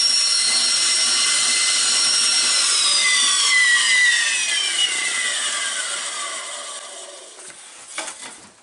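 A table saw blade cuts a half-depth groove into a wooden board for a hive box, giving a steady high whining rip that slowly trails off toward the end, heard alone without speech.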